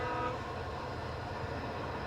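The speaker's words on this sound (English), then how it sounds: "Gotta catch that train!" A train in the video game Alan Wake, a dense, loud rumbling roar of rail cars with a sustained horn-like tone, continuous throughout the short stretch with no speech.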